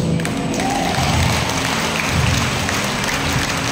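Audience applause at a church gathering in Batangas during a sermon on holiness: a steady, dense wash of clapping that holds evenly throughout, without any clear voice over it.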